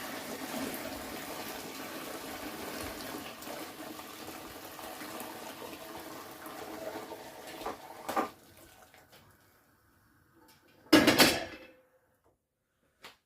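Homemade dandelion wine is poured through a sieve, a steady rushing trickle of liquid for several seconds that tapers off, followed by a brief clatter and a louder splash near the end.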